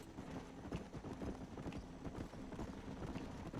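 Horse hooves clip-clop steadily in the Red Dead Redemption video game, a repeated rhythmic patter of hoofbeats at moderate distance over low ambient game sound.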